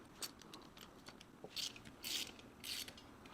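Spark plug being tightened by hand on a Kawasaki KLX110 dirt bike, giving a few quiet ratcheting clicks in short bursts against a soft background hiss.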